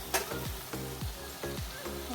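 Coconut with kochu greens frying in a pan while being stirred, a close, rhythmic series of scraping strokes roughly every half second over a continuous sizzle.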